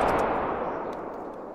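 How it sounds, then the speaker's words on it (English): A muzzleloader loaded with round ball ammo fires at night in theHunter: Call of the Wild, a single close boom decaying into a long rolling echo over about a second and a half. "with the round ball ammo, the appropriate ammo in the muzzleloader, I was able to effectively shoot that lynx"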